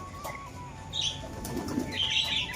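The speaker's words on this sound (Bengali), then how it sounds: "আর এবার দেখো আস্তে আস্তে সব পায়রা, আয় আয় আয়" Pigeons fly in with a soft rustle of flapping wings, building over a couple of seconds at moderate distance, with faint bird calls in the background.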